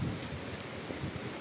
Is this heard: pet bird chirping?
no